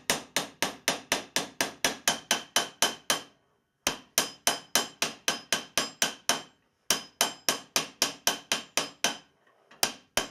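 A hammer taps the lead on the end of a fusible plug over and over. Three fast, even runs of sharp metallic blows are separated by short pauses, loud and close with no talk.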